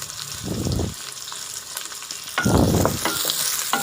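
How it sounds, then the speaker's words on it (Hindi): Onions dropped into hot oil in a wok (kadhai), sizzling and frying in two loud bursts of crackle with quieter hissing between, close up and with no talk. "तो अब कढ़ाई में ऑयल डाल दिया है, उसमें अब प्याज डाल दिए"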